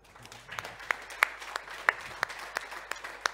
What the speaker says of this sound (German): Ein Applaus, ein Willkommensapplaus für Professor Dr.